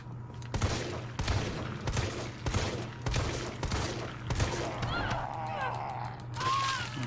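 Weapon fire in the Resident Evil 3 Raccoon City demo: a steady run of loud, evenly spaced gunshots, about one every half second, then a short break and a final shot over game ambience.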